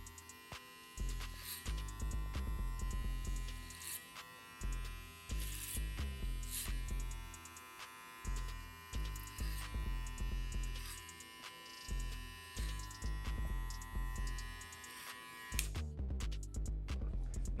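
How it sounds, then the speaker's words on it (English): Electric hair clippers used clipper-over-comb during a low taper cut give a close, steady buzzing hum, cut into repeated bursts by short pauses and faint comb scrapes, with a sharper rattle near the end. "So I'm going to use some clipper over comb to get rid of this weight."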